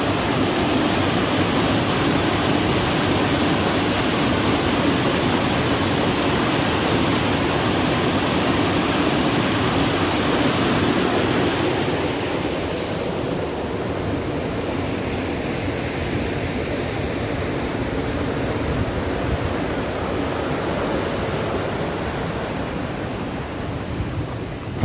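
Water rushes over a canal weir in a steady, broad roar that stays loud and continuous throughout, heard close with no voices.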